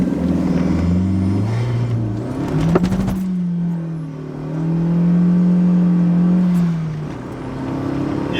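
A 2006 VW Polo GTI launches hard from a standstill to 100 km/h on a wet road with front-wheel slip, the engine revving up through the gears in rising sweeps with a brief drop at each shift, loud and close throughout.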